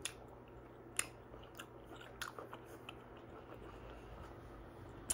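Someone bites and chews Chipotle food close to the mic, mukbang style. Faint, sparse crunches and wet chewing clicks come in irregular bursts over quiet room tone.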